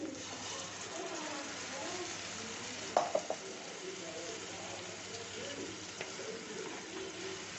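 Tomato puree sizzles steadily as it goes into a hot pan for tomato chutney, with stirring and a few sharp clinks midway, heard at close range without talk.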